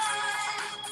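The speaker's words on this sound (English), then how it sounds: "that was my phone." A mobile phone ringtone playing a snippet of music, bright and continuous, close and fairly loud for about a second with no talk over it.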